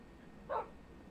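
A single short dog bark from a Minecraft game, mid-level and brief, standing out from a quiet low background hum with no talk over it.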